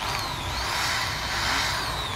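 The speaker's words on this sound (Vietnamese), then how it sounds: "mình nhấp nhẹ nhẹ thôi à, đó nó khoan chậm để quan sát luôn rồi" A Maxpro MPED450V 450 W corded electric hand drill runs slowly and steadily with a soft, even whir, close by and alone.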